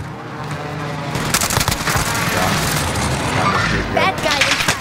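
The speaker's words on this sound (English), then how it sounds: "Allied precision airstrike incoming." A precision airstrike in the Call of Duty Warzone video game sets off a dense, loud run of booming explosions and crackling gunfire that rolls on for several seconds with no break.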